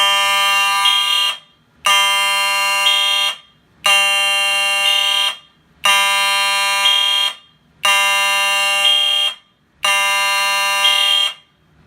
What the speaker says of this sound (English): So I'm going to restart by starting off with this smoke detector.